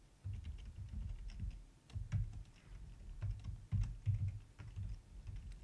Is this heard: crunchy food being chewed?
no